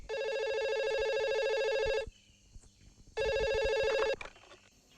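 A telephone rings on an outgoing call, two long electronic ring tones about two seconds each separated by a short pause, clear and close with faint background noise between rings.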